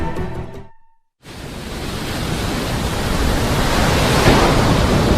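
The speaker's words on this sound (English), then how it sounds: "Ocean." Broad, steady wash of ocean surf rolls in after a brief silent gap, loud and continuous with no voices over it.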